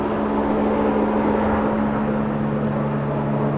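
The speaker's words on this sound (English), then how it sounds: "Hold on, the helicopter's talking." A steady, loud mechanical drone with a low rotor-like hum fills the air continuously as a helicopter passes overhead at an outdoor football training camp.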